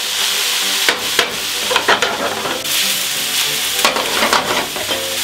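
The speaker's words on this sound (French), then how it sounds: "On va faire torréfier le paprika. On tourne, on retourne" Onions, garlic and paprika frying with meat in a pan, a loud steady sizzle broken by repeated scraping stirs throughout.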